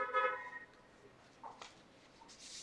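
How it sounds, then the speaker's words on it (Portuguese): A car horn nearby gives a single short honk at the start, fairly faint, followed by quiet background noise with a few small clicks. "Chama um cara aqui para ficar buzinando aqui do lado, uma barulheira danada."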